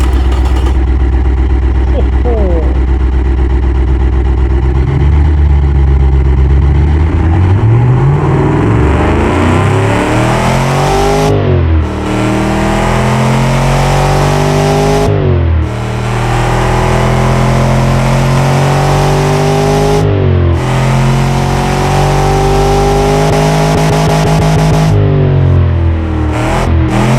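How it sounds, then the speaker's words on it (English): A Chrysler 440 V8 engine with a new camshaft in a car-building video game revs hard and repeatedly with a lumpy, rumbling idle between throttle blips; a voice briefly exclaims once early on. "So let's fire it up and hear the new camshaft"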